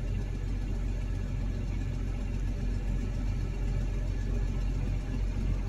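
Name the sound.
New Holland T7040 tractor engine pulling under throttle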